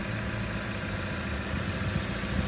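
A 2011 Jeep Patriot's 2.4-liter four-cylinder engine idles steadily up close with the hood open, a continuous even drone with a low rumble.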